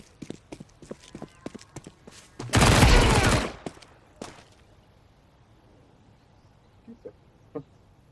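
A dense burst of rapid gunfire in Counter-Strike 2 erupts for about a second, loud and close, among sharp clicks and clatter, then fades to quiet with a few soft taps.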